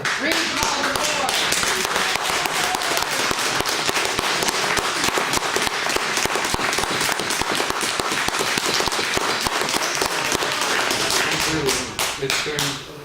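An audience at a fire district board meeting claps steadily and continuously for several seconds, a dense patter of hand claps that thins out at the end.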